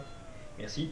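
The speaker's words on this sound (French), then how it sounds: "Ah non, c'est le chat." A cat meows near the microphone indoors, a short rising cry over steady room noise while a person talks.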